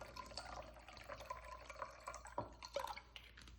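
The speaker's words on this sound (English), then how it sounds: "Then you add 1/4 of a cup of white wine vinegar." White wine vinegar is poured into a pan with chopped shallots and white wine for béarnaise sauce, a soft close trickle with a few light drips and splashes, quiet overall.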